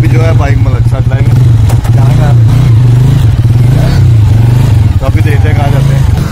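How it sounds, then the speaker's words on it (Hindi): A motorcycle engine runs loudly and close as it is ridden on a road, a continuous throbbing drone with slight pitch wobble, while someone talks over it. "तो अभी जो है बाइक मलक साहब चलाएंगे"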